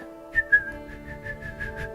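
Someone whistles a short melody in the Zelda Skyward Sword game setting, a handful of clear pitched notes in quick succession over faint background music.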